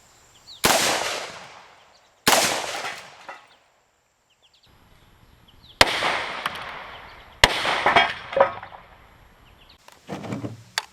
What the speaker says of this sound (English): So after 2 shots of the 300 Blackout, 150 grain